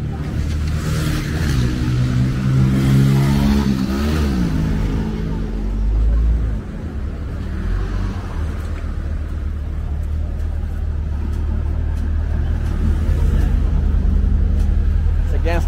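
A BMW engine revving loudly at a street gathering in Las Palmas, Medellín, a sustained deep throaty roar that swells and holds steady throughout, with people talking nearby.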